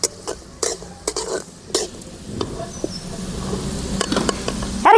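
Garlic and cashews frying in a pan for garlic rice, stirred with a utensil: scraping stir strokes and clinks over a low steady sizzle, close by, with brief talk in between.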